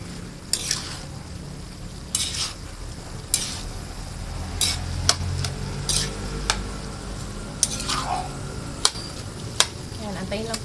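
Vegetables for lumpiang sariwa cook in a pan with a steady sizzle, broken up by repeated scraping and clanking stirs of a utensil against the pan, while a voice talks over the cooking.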